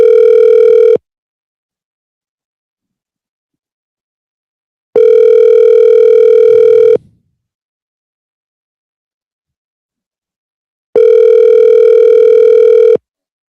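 An outgoing phone call rings out with three loud, identical ringback tones, each a steady buzz lasting a second or two, separated by long silent gaps.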